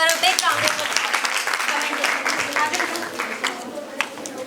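Audience applause at a school event on vision, innovation and leadership, with steady dense clapping throughout at a moderate, fairly close level, voices and chatter mixed in the crowd noise.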